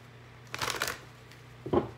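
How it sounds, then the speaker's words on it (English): Two short bursts of tarot card shuffling, a papery riffle followed by a brief pause and a quick second flick, close and fairly soft. "They're having me shuffle a little bit longer for you guys."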